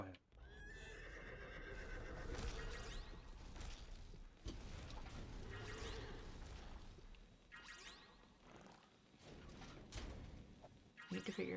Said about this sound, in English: Holy hex! A Trojan horse!